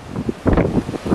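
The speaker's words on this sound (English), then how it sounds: "Very windy." Strong gusts at Pfeiffer Beach, blowing sand, buffet the microphone in rough, rumbling bursts, loud and close, with no voices.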